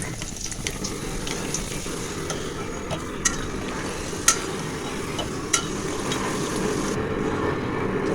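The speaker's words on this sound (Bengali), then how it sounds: "এক এক করে আমি সমস্ত নাস্তাগুলো ভেজে নেব" Pitha snacks frying in oil in a pan, a steady dense sizzle running throughout with a few faint clicks and taps, close and even, no voices.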